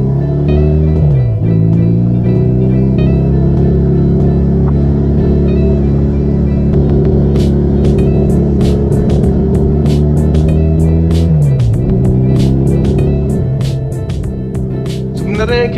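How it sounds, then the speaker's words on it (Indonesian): A Honda CB200 motorcycle engine rumbles loudly and steadily, revving up and dropping twice, with a voice talking over it. "sekarang kita coba test ride motor ini."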